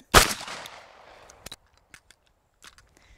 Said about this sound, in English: move the gun and break the shot, track the sight and break the second shot